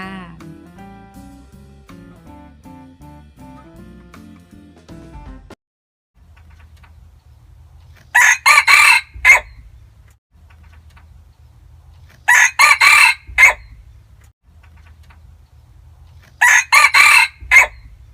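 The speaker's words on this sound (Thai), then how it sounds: "ตัวนี้เป็นไก่ต่อหูใหญ่นะคะ หน้าขาว ไปฟังเสียงกันเลยจ้า" A white-faced, large-eared decoy jungle fowl crows three times, loud and close, each crow a short harsh burst, after a brief stretch of music.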